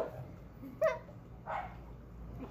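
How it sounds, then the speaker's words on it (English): A dog near a pool gives two short, faint barks a moment apart over a quiet background. "Oh, the dog."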